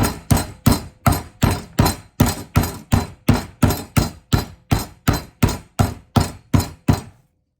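Pork is pounded flat for a fried pork sandwich with a meat mallet, about eighteen loud, evenly spaced thuds in a steady rhythm, close up, with no talking.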